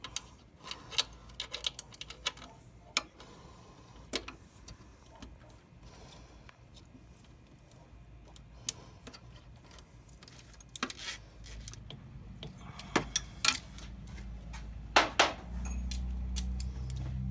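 Ratcheting socket wrench with a 12mm socket tightening the lower alternator bolt on a 2007 Toyota Camry, giving intermittent close clicks and metallic taps in short irregular bursts over a low background hum.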